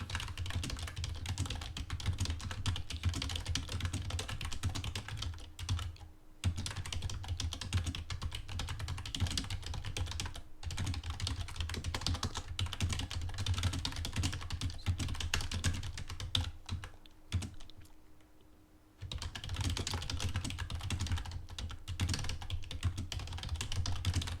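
Steady, rapid typing on a computer keyboard, close and continuous, with a couple of brief pauses.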